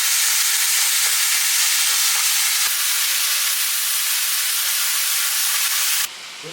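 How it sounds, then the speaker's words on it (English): Ground beef and onion fry in a pan while a spatula breaks the meat into small pieces, giving a steady, loud, close sizzle and hiss with faint scraping that stops abruptly near the end. "we're gonna go ahead and break it up with our spatula into small pieces"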